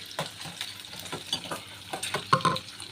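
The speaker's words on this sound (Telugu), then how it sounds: "ఇలా కొంచెం వేగనివ్వాలి." Tempering spices and green chillies frying in a pan for tomato curry, a quiet crackle and sizzle with intermittent stirring scrapes and small clinks, close by, no voices.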